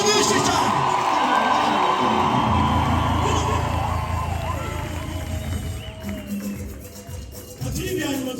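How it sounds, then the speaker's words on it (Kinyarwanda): A church congregation ululates joyfully in a loud, sustained crowd roar, with high trilling voices and cheering blending together up close, dipping briefly before surging back. "reka twese noneho tuvugirize impundu nyinshi cyane"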